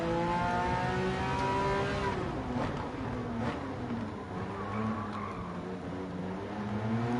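Porsche all-wheel-drive race car in Gran Turismo 7 at Spa, its engine revving loudly with shifting pitch as gears change, tires squealing briefly, close and continuous.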